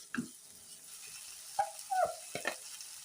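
Food frying in a pan while pani puri is being made, faint and quiet, with soft sizzling and a few light stirring scrapes and clinks.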